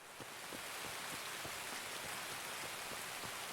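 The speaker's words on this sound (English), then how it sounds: "Getting a torrential downpour here." Torrential downpour in the Escape from Tarkov video game, a dense, steady hiss of heavy rain with faint droplet patter throughout, loud and unbroken.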